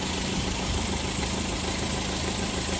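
A Land Rover Defender 110 County utility station wagon with a 2.2 TDCi diesel engine idles steadily and smoothly, a close, constant mechanical hum and clatter with no voices.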